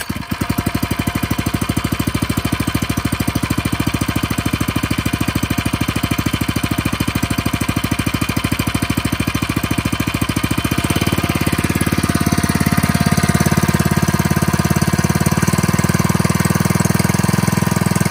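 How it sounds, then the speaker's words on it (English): A small gasoline engine drives a water pump for a portable home wildfire defense system fed from an IBC tote. It runs loud and steady with a rapid knocking pulse, then shifts to a smoother, lower drone partway through. "get the pump started up"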